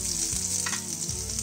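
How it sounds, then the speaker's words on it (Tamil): Mustard seeds, urad dal, curry leaves and shallots frying in hot oil for a Chettinad turkey berry pachadi, a steady close sizzle with a brief stirring scrape, no voices. "இந்த கடுகு உளுத்தம்பருப்பு எல்லாம் பொரிஞ்சிட்டு இப்போ கருவேப்பிலை சேர்த்து போட்டுறேன் அதில்"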